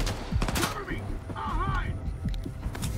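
Gunfire in the game Stalker 2, a rapid burst of shots and blasts with someone talking over it, loud and close throughout.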